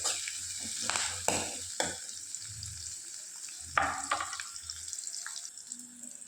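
Onions and curry leaves frying in a pan for sambar, giving a faint steady sizzle broken by several loud stirring scrapes and clatters, heard close with no talking.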